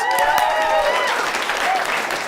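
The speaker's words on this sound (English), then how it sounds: "Give me a round of applause." Lively audience applause at a comedy show, a dense continuous wash of many hands clapping at once, loud and close, with a few voices briefly audible through it.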